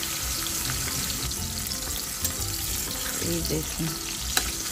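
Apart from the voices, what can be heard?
salted potato halves frying on high flame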